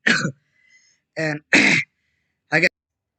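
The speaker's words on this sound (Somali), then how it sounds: "meesha qufaca iyo uxdaas inta ayaa ka saari doonaa" A short cough followed by two bursts of throat clearing and a final brief clearing, close and loud with silent gaps between, from a single person.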